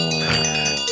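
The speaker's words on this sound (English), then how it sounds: "We're gonna ring the bell." A single bright bell ring with a sustained metallic tone lasting under a second, loud and close.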